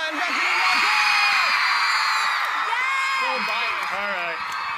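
Audience at a YouTube FanFest event in Singapore screaming to vote, a sustained loud wall of high-pitched shrieks and cheers from a large crowd lasting several seconds without a break.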